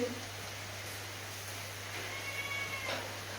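Cat meowing faintly on a rainy evening during an outdoor pork grill meal, set against steady rain hiss and a constant low electrical hum.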